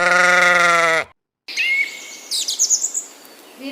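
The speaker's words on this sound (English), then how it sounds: "Sheep. This is a farm" One sheep gives a loud, wavering bleat up close, then a short silence before faint bird chirps and scattered outdoor noise follow.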